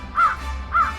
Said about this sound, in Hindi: उतने में वहाँ आई एक कौवा।